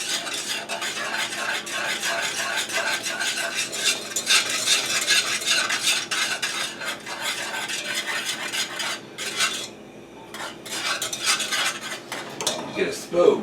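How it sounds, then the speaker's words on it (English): A whisk beats milk in a pot for banana pudding, making a steady, brisk metallic scraping and clinking against the pan that runs almost without a break, loud and close, with a brief lull near the end. "I'm continuously whisking this because I don't want the milk to burn"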